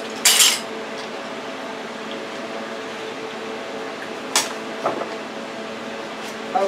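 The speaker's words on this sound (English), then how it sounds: "I want to rinse my teaspoon off because I need it again." Metal teaspoon rinsed at a kitchen sink while baking marshmallow pineapple pudding, with a few clinks of the spoon against the sink and a steady background hum; a voice talks over it.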